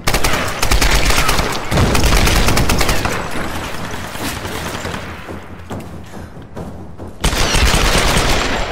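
Gunfire in the Tomb Raider video game: loud, dense bursts of rapid shots and thuds, easing slightly midway before another intense volley near the end, with no talking.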